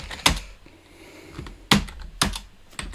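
Keys pressed on a computer keyboard, a few sharp separate clicks spaced irregularly, close and clear against a quiet room.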